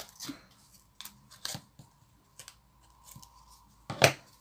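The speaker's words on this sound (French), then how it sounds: "Je coupe ma bande." Scissors snip through a strip of double-sided tape for a junk journal tag, a series of short, crisp cuts spaced apart with one louder closing snip near the end, alone in a quiet room.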